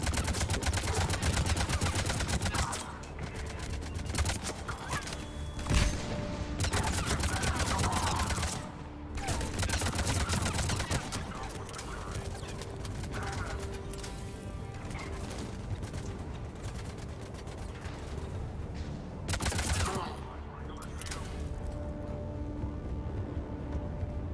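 Gunfire in the Mass Effect 3 video game, rapid bursts and scattered shots mixed with mechanical clatter and a steady game soundscape, fairly dense throughout.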